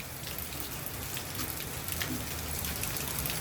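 Heavy monsoon rain pours down in Surat as a dense, steady roar, with close patters of drops striking nearby surfaces and no voices.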